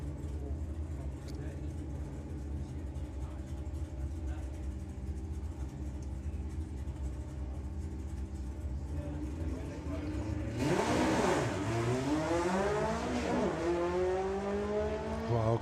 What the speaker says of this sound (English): So you got the Oval Beetle of Frederick once again putting another run in. Going alongside the Herbie replica